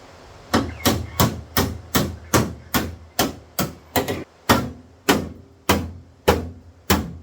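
Steady, loud hammer blows strike metal engine parts of a Trans Am, about two per second in an even rhythm, close up and with no talking.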